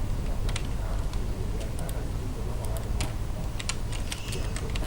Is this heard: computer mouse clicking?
yes